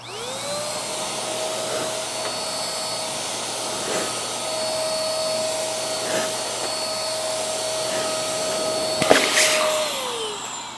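A Max Shine handheld car dryer blower runs steadily with a whining motor tone and rushing air, close and continuous, with a few faint knocks near the end.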